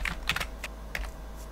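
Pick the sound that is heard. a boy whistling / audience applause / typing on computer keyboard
typing on computer keyboard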